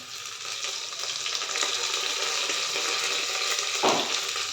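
Onion sautés in a pan for masala rice, a steady sizzle that grows slightly louder and ends with a brief scrape or stir near the close.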